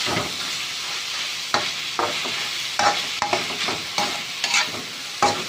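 Pork being stir-fried with chili and garlic in a hot pan for a basil stir-fry, a steady close sizzle broken by repeated scraping strokes of a spatula.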